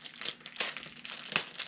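Close crinkling and crumpling of plastic packaging as a parcel of postcards is opened, coming in several irregular bursts of crisp rustle with short pauses between them.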